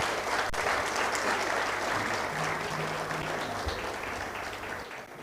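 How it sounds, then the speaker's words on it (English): Audience at a book launch claps in steady, sustained applause, a broad even wash of hands that fades slightly at the close. "Can Ms. Sylvia Mulingi have a better round of applause,"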